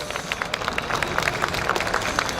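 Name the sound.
audience applause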